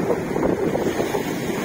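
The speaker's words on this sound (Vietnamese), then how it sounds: "sóng rất lớn nha, biển rất động nè" Large, rough sea waves roll in at a beach in strong evening wind. A steady, loud roar of surf is mixed with wind buffeting the microphone, with no pauses and no voices.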